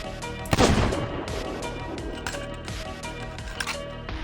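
A long-range gun fires in the pirate game Sea of Thieves: one sharp, loud shot with a booming tail, followed by softer scattered impacts and clatter.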